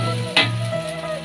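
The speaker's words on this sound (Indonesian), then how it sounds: "Kita goreng sampai kresek-kresek supaya masakannya tidak mudah" Blended spice paste frying in a pan, a steady close crackling sizzle with a brief louder hiss as it is stirred.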